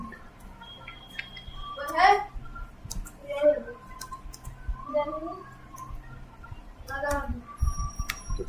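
Computer mouse clicks during data entry on a family registration form, several sharp isolated clicks spaced over a few seconds against a quiet, faintly humming room, with soft speech in the background.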